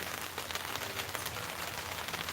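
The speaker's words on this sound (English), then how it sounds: "Hear the rain?" Rain falls steadily outdoors as a dense, continuous patter and hiss, fairly faint and even, with no voices over it.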